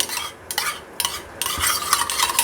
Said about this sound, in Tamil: நம்ம எடுத்து வச்சுருக்க கர்டை நல்லா அடிச்சுட்டு